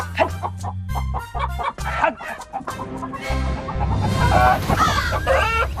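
A chicken clucks in short, repeated bursts in a comic chase scene, close and loud, over busy background music and movement.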